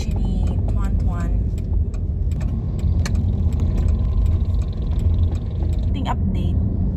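A borrowed car driving on the road, heard from inside as a steady low engine and road rumble with faint clicks, while a person talks throughout.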